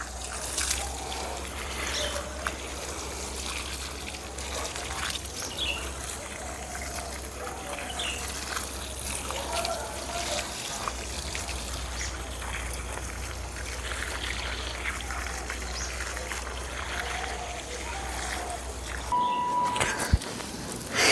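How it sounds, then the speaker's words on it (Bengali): Water pours steadily onto bean plants in a home vegetable garden, a continuous trickling splash with a low hum underneath and faint voices in the background. "আমি এখন বিনস গাছগুলোতেও জল দিয়ে দিচ্ছি"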